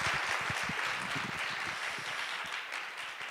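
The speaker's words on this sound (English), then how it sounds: "please join me in a warm applause for our fantastic panelists" Conference audience applauding panelists at the close of a panel discussion at an international women and peace conference; steady, dense clapping fills the room at moderate level throughout, fading slightly toward the end.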